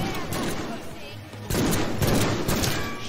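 Deadpool video game gunfire, a loud flurry of shots with clusters of sharp bursts that intensify partway through, dense and close throughout.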